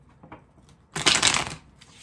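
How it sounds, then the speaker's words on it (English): A deck of cards is shuffled during a card reading: a brief dense riffling burst that lasts about half a second, loud and near, after a few soft handling taps, with no speech. "I was told to shuffle the deck again here to get into your blockages"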